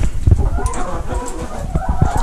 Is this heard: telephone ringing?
no